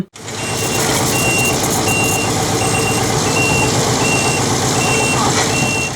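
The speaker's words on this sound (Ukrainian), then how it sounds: "Нині тут працює дорожня техніка." Road machinery works on a damaged rural road under repair in Poltava region, with a truck's steady reversing beeper repeating at a regular pace over a loud, continuous diesel engine rumble close by.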